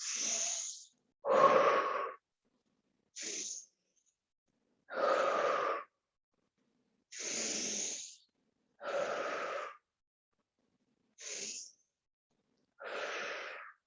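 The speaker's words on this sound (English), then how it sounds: "Inhale. Exhale, big breathing, exaggerate" Exaggerated deep breathing during a somatic mat exercise: eight loud, airy breaths alternating inhale and exhale, each lasting about a second, separated by short silences, close to the microphone.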